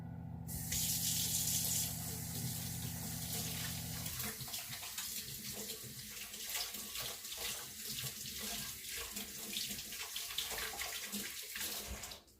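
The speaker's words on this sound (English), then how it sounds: "Let me wash my hands very quickly." Water from a kitchen tap runs steadily into a sink while hands are washed under it during pizza making, the flow starting briefly, then splashing and rinsing for several seconds close by.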